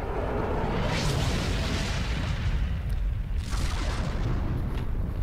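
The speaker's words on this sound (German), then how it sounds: "das ist jetzt wieder eine tolle Explosion" A big space-battle explosion in Star Trek Online, a loud sustained roaring rumble with crackling bursts that swells and falls and swells again for several seconds, with no talk over it.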